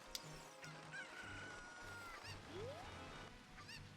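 Chickens cluck and squawk in a Zelda Ocarina of Time game, faint repeated calls over quiet background game music, with short squawks and a crowing-like cry spread across the stretch.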